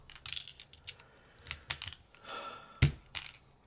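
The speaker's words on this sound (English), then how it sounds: "You have until I finish taking off the keycaps and switching switches" Keycaps and switches are pried off a mechanical keyboard, giving sparse plastic clicks and snaps, one louder crack near the end, close and quiet between.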